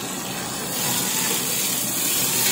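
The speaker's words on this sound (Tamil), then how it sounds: "இப்போ இதெல்லாத்தையும் நல்லா ஒரு வாட்டி கலந்து விட்டுருங்க" Mint, coriander and green chilies being stirred in a hot pan for egg biryani, a steady loud sizzle and hiss that swells slightly partway through, with no talk.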